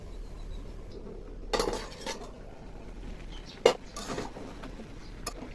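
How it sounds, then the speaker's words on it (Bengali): A metal lid is set over a pot of chicken curry cooked with coriander leaves and green chillies, giving a couple of light, quiet clanks against a faint kitchen background. "তরকারিটাকে কিছুক্ষণের জন্য ঢেকে দেবো"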